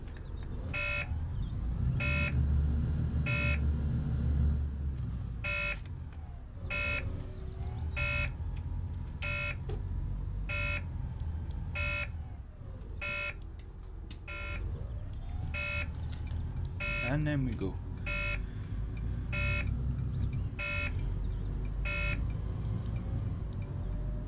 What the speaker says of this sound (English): we will hear that buzzing for a bit because the air pressure's low